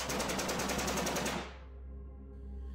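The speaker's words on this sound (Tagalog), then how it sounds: "Habang tumatagal ay mas lalong lumalakas naman ang mga putok ng baril na aming naririnig." Rapid bursts of gunfire blast loud and dense for about a second and a half, then cut off abruptly, leaving a low rumbling ring and faint hum.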